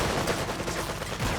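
Rapid gunfire rattles from units shooting at target dummies in Red Alert 3, a dense burst of repeated shots filling the whole moment, close and loud with no voices.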